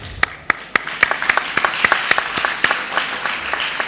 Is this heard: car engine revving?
no